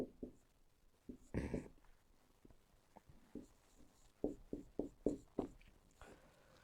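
Answers are written on paper with a pen, producing soft close scratching strokes in irregular short bursts, with one louder rustle near the start and a quick run of strokes toward the end.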